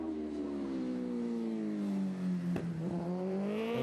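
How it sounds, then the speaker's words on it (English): A race motorcycle at the Cookstown 100 road race, the 2024 Open race, passes close with a loud sustained engine whine that falls in pitch as it goes by. "There is the race leader, Dominic Herbertson."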